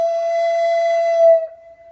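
A Native American flute sounds one sustained, breathy three-finger note, held steady and close for over a second before trailing off quietly.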